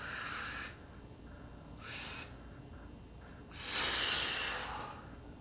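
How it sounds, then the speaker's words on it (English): Breath pushed out during a breathing exercise, three hissing exhales, short, short, then a longer, louder final one, close to the microphone with quiet gaps between. "One more in and out to make sure you pushed all the air out."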